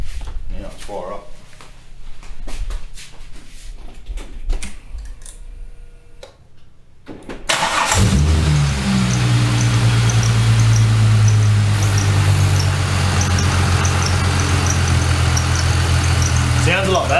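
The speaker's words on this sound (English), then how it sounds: "now let's fire up" A Holden Commodore with an L67 engine cranks briefly, then fires up and settles into a steady, loud idle after a stretch of quiet workshop clatter.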